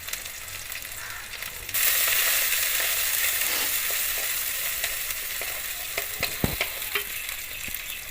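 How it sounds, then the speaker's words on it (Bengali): Chopped onion and garlic drop into hot oil and erupt into a loud, steady sizzle that settles into a constant frying hiss, with occasional stirring clicks and scrapes in the pan and no voices. "তেলের মধ্যে আমি পেঁয়াজ কুচি দিয়ে দিলাম রসুন কুচি দিয়ে দিলাম"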